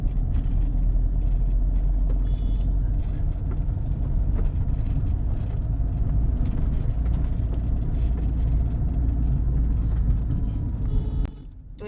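A Mahindra XUV500 SUV engine running, a steady low rumbling drone heard from close by that continues without a break and fades near the end.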